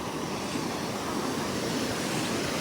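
Sea waves wash steadily onto a Konkan coast beach, a constant broadband roar of surf with wind, moderately faint and with no talking.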